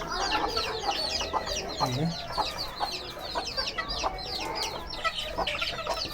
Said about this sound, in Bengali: এই যে আমাদের মুরগিগুলা